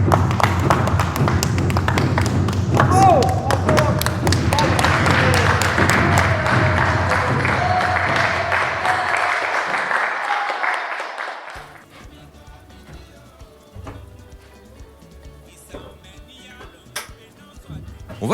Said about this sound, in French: On peut applaudir bien fort nos apprentis cinéastes